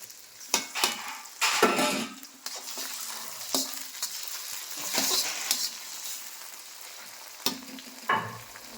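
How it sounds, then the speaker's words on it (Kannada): Onions and green chillies frying in a pan at a roadside eatery in Kalaburagi, a steady soft sizzle broken by a few loud, sharp stirring bursts and clatters close by, with no talk. "ಉಳ್ಳಾಗಡ್ಡಿ ಮೆಣಸಿನ್ಕಾಯಿ ಫ್ರೈ ಆಗ್ಯಾವ"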